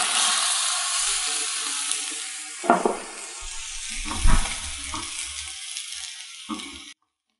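Milk stirred into golden fried bread in a pan for bread halwa, a soft hiss fading as a few scattered spoon scrapes and clinks come through, close and fairly quiet.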